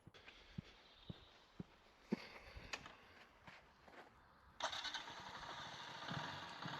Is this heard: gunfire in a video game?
no